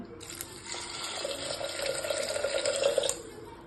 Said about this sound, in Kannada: ನೋಡಿ, ನೀರು ಹಾಕ್ಕೊಳ್ತಾ ಇದ್ದೀನಿ